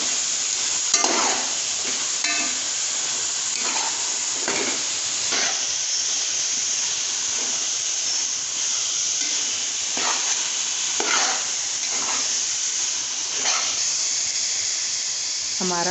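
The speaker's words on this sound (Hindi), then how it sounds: "अब हम इसमें खुश्क मेवा शामिल कर देंगे और खोया भी, और इसको मिक्स कर लेंगे अच्छी तरह।" Dry fruits and khoya being stirred into carrot halwa in a pan, a continuous sizzle and hiss with repeated scraping strokes of the spoon at an even rhythm, close and fairly loud.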